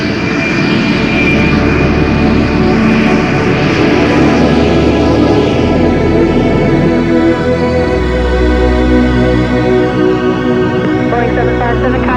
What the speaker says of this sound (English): Boeing 757 clear to takeoff, runway 33, wind 180 at 24